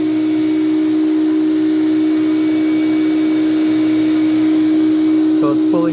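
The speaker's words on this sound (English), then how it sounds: "There's the extractor right there, HVE3000" A Dri-Eaze HVE3000 water extractor pulls water out of a soaked carpet during water-damage cleanup. It gives a loud, steady, droning whine with a strong constant hum, and a brief voice comes in near the end.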